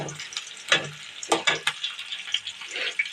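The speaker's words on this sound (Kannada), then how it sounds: "ಒಂದು ಗಡ್ಡೆಯಷ್ಟು ಈರುಳ್ಳಿ ಕಟ್ ಮಾಡಿ ಇಟ್ಕೊಂಡಿದ್ನಲ್ಲ ಅದನ್ನೇ ಹಾಕೊಂಡಿದ್ದೀನಿ ಆಯಿಲ್ಗೆ." Chopped onion with mustard seeds fries in hot oil in a pan, crackling and popping in quick, uneven bursts over a low hiss. It is close and moderately loud, with no voices.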